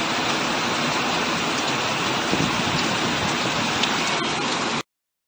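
Heavy rain pours down steadily in a dense, unbroken hiss, loud and close, with no voices, before cutting off abruptly near the end.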